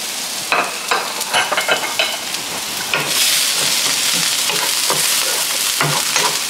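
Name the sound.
garlic frying in a pan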